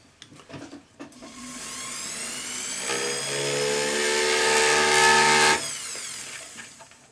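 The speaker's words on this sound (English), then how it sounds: "So what you do is use a small round burr" A small round burr held sideways against a small metal dome, marking a spot for a drill bit while making earrings. It gives a steady high-pitched whirring grind of about four seconds, with short light scrapes before and after.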